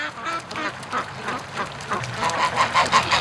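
Muscovy duck in a free-range yard by a lake, giving a run of short, breathy quacking calls in an irregular rhythm, fairly close and clear with no one speaking.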